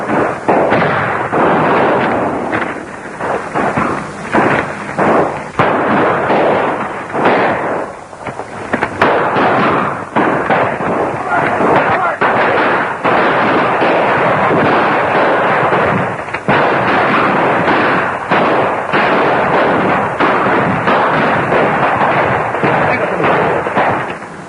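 Dense, continuous gunfire and artillery-style bursts from a war battle scene, loud and sustained throughout with rapid overlapping shots and booms.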